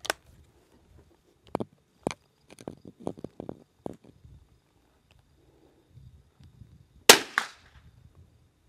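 A Christensen Arms rifle firing Aquila 22LR rimfire rounds at a range: a series of sharp, dry cracks at uneven intervals, with one louder report near the end.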